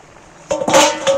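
Spices hitting hot oil as a tempering for egg masoor dal, a sudden bright crackling sizzle that starts abruptly halfway through and stays close and loud to the end.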